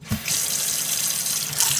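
Water running steadily from a kitchen tap into a sink or container for instant ramen, a continuous close hissing flow after a brief knock at the start, no talk.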